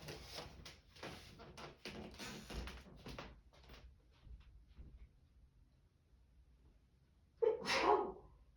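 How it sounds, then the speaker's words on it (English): A single loud, abrupt sneeze bursts out near the end after several seconds of quiet rustling and faint handling sounds in a room where someone is working on a junk journal. "I'm going to sneeze."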